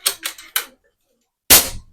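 An M3 Terminator air rifle fires three sharp, close pops in quick succession, then a pause and a louder fourth crack, with no talking.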